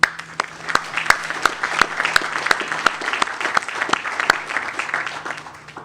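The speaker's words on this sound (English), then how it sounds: "They continue to support us, and too are deserving of a special round of applause." Applause at a department of correction workforce recognition ceremony, a moderate crowd clapping with sharp individual claps standing out above the steady patter, with a few faint voices underneath.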